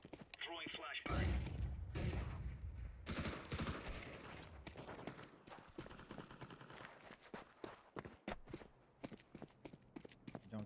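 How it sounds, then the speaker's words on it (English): A flashbang grenade thrown during a Counter-Strike 2 match, with a loud burst early on followed by a busy stretch of gunfire-like cracks and thumps, while a player talks over the action. "Throwing flashbang."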